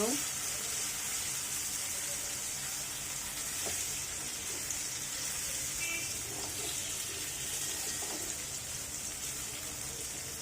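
Indian gooseberries fry with spices in a pan, giving a steady hiss of sizzling over about ten seconds with faint stirring clicks. A soft murmur of a voice may sit in the background.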